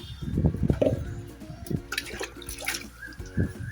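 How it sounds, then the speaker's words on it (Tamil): Water poured from a small tub onto a freshly planted lotus tuber in a container, a close, uneven splashing and trickling that swells and fades in bursts, with low murmuring in the background. "வாட்டர் தண்ணி விடணும்"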